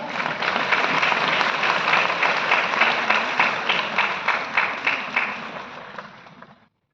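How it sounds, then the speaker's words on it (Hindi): An audience applauds at an award ceremony at Vigyan Bhawan in New Delhi, a dense, sustained wash of many hands clapping that holds steady, then thins into scattered claps and fades out. "जोरदार तालियों से मंच पर स्वागत कीजिए"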